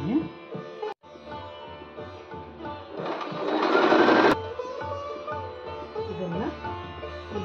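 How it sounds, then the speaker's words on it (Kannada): A sewing machine stitches a satin scrunchie in rapid, rhythmic mechanical clatter close by, with a brief pause and a louder whirring stretch midway. "ಈ ಎಂಡಲ್ಲಿ ಒಂದು ಸ್ವಲ್ಪ ಬಿಟ್ಕೊಂಡು ಇಲ್ಲಿ ತನಕ ಸ್ಟಿಚ್ ಮಾಡ್ಕೊಂಡು ಬರ್ತೀನಿ."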